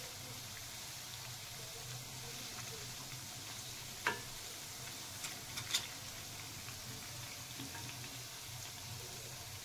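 Medu vada, crisp lentil fritters, frying in oil over medium heat, giving a steady soft hiss and bubbling that runs throughout, broken by a few faint clicks and knocks near the middle.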